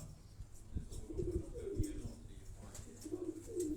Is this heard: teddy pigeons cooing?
yes